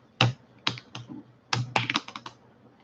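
Tarot cards are shuffled by hand, giving a few quick papery riffles and taps in short bursts, close and crisp with brief pauses between them and no talking.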